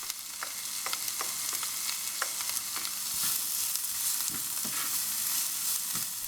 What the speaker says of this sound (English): Stir the chilies into the cooking onions, then add the spring onion stems.